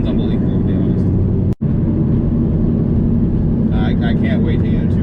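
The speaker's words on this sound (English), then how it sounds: "just trying not to stall, just giving it a little bit of gas here and there" A 302 stroker Ford Mustang V8 idles and is blipped gently at low RPM to keep from stalling, a loud, steady, close rumble that runs the whole time, cut by one brief dropout.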